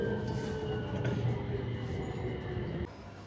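Steady rumble and rattle of a Bangkok metro train in motion, heard from inside the carriage, with a continuous low drone and faint high whine that drops off abruptly near the end.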